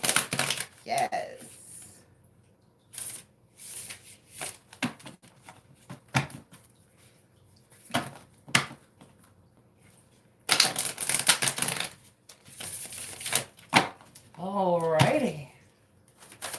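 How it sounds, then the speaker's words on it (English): A tarot card deck being shuffled in repeated bursts of crisp riffling and rustling, with pauses between, and a person talking intermittently over and between the shuffles. "Oh, this deck. It shuffles so beautifully."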